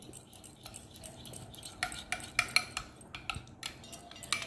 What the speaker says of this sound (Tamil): இப்போ இதை நல்லா மிக்ஸ் பண்ணிடணும்.